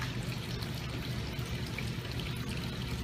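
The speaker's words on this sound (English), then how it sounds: "This chlorine, when you add that into the water, here's what it does." Chlorine poured into 350 gallons of spa water makes a steady, close splashing pour that runs continuously without a break.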